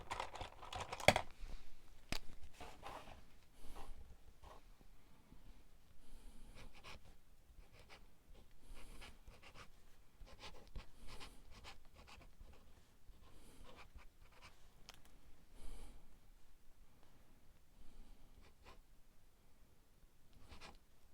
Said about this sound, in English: We're going to write on it with a fountain pen